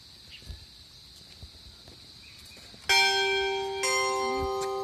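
A bell rings at Marian Orchard, two clear metallic strikes in close succession with a long shimmering ring-out, loud against a quiet outdoor background of faint birds and footsteps.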